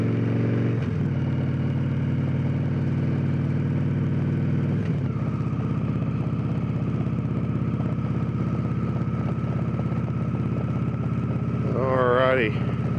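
Victory Cross Country touring motorcycle accelerating on the road, its steady loud engine drone holding for several seconds, then shifting with a brief pitch sweep near the end.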